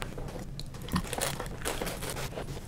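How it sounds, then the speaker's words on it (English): Plastic wrap is torn and crinkled off a Lord of the Rings card game expansion box, a close and steady rustle of crackles and crunches with no voices. "So let's unwrap it."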